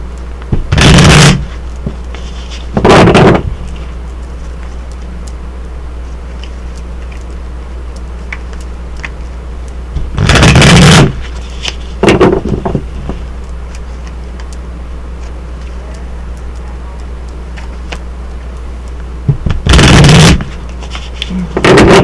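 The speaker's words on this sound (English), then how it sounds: "one more good shuffle" Tarot cards are shuffled in three separate bursts of riffling, each lasting a second or two with quiet gaps between, close and crisp over a low steady hum.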